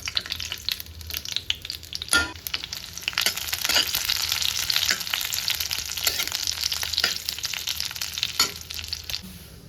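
Ghee sizzles in a pan as seeds and dry fruits roast in it, a continuous crackling hiss with occasional stirring scrapes, close and steady with no talking.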